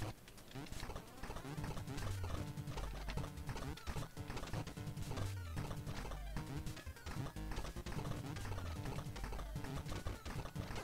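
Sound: horse hooves clip-clopping in Jay and Silent Bob Mall Brawl video game

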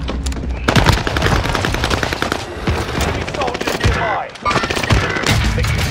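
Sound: shotgun gunfire in video game Call of Duty

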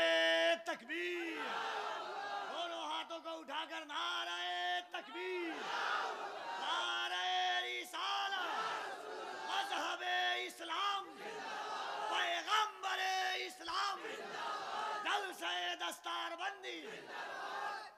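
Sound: crowd responding to the takbir slogan chant

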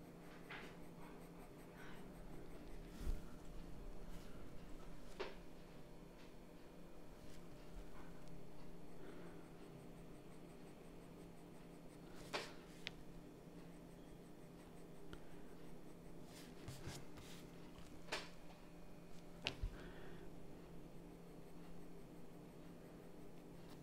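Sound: 2B pencil drawing on paper

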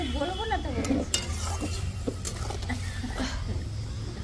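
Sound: fish frying in a pan

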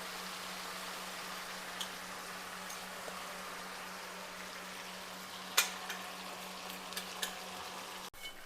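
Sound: gongura chutney frying and being stirred in tempering oil

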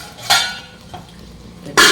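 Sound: lid placed on cooking pot

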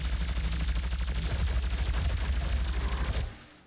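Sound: plasma rifle firing in the video game DOOM

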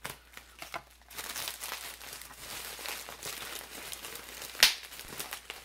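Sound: bubble wrap popping while unpacking a parcel

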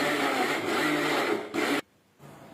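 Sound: mixer grinder jar grinding squid

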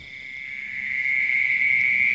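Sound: frogs and insects at night in the fields

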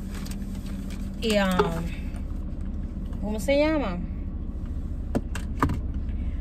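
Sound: car engine running

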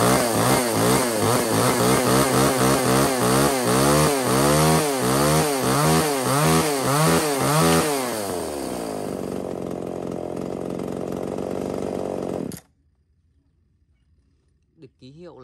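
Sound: chainsaw running

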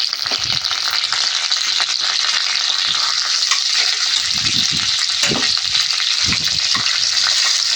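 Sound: tempering spices frying in hot oil

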